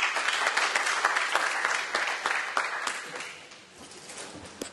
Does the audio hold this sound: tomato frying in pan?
no